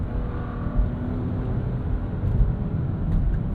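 A Nissan Rogue's turbocharged 1.5-liter three-cylinder engine while driving, a steady low droning hum with road rumble from inside the cabin, fairly even in level with slight swells; no talking.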